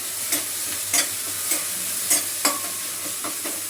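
Chopped green chili and curry leaves sautéing in a pan over lowered heat, a steady close sizzle broken by periodic scraping stirs of a spoon.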